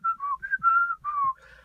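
A person whistles a bird's call, imitating it as a series of short, clear melodic notes with brief gaps, close and alone with no talking.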